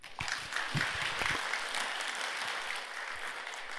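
Polite applause from an audience at an academic Buddhist paper presentation, welcoming the presenter; a soft, steady wash of many hands clapping, fairly distant and quiet, sustained throughout.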